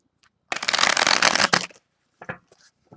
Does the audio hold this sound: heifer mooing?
no